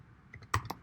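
Computer keyboard typing during coding work, a few distinct close key presses in a short burst with no talk.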